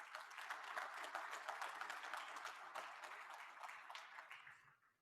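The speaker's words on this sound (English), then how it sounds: "So please give them a round of applause for all the work that they've done." An audience gives staff a round of applause at an association's annual address, a sustained wash of many hands clapping that holds steady, then thins and fades out near the end.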